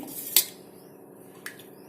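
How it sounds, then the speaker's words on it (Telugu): A metal cooking pot sits on a lit stove for chicken curry and gives two sharp clinks, one louder and then a fainter one, over a quiet steady background hum. "స్టవ్ వెలిగించి గిన్నె పెట్టుకున్నాను"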